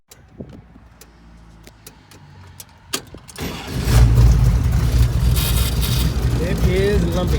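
The 550 HP engine of a 1930 Ford Roadster hot rod starts up and settles into a loud, lumpy idle that fills the space, after a few soft clicks and knocks inside the car.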